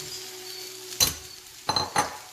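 Egg fried rice being stirred in a hot pan at medium-high flame, a steady sizzle broken by a few sharp spatula scrapes and clinks against the pan, close and alone with no talk.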